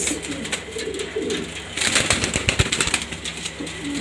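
Six pigeons coo close by in soft, throaty, repeated calls, with a brief flutter of movement among them.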